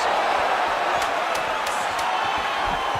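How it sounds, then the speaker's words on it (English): A loud UFC arena crowd roars and cheers as an outside leg kick lands, the noise sustained and rising, with a few sharp slaps cutting through. "can you hear the reaction from the crowd as another outside leg kick lands?"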